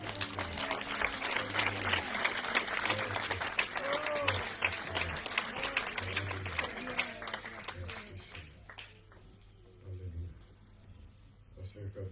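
A church congregation applauds during a prayer service, a broad wash of clapping that swells under a continuing voice, then thins and fades toward the end.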